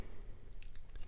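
Pins inside a Yale Euro cylinder lock tick as it is picked: a few faint, tiny metallic clicks spaced apart over a low background hiss.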